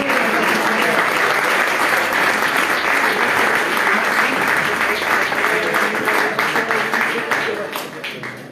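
A crowd claps loudly and steadily at a homebrew beer competition award ceremony, the dense applause running for about eight seconds before tapering, with a voice talking underneath.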